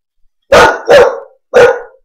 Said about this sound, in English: See, my dog agrees with me.